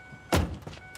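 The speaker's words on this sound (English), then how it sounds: "A car whose doors open like this." Tesla Model X falcon wing door opening: a brief mechanical thunk and whir of the powered door, close and fairly quiet, lasting under a second.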